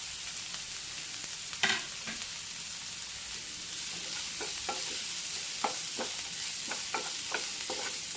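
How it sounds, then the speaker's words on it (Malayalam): Chopped garlic, green chili and curry leaves fry in oil with a soft, steady hiss, while a spoon scrapes and clinks against the pan in a run of close strokes, without any talking. "നല്ലപോലെ ഒന്ന് ഇളക്കി കൊടുക്കണം."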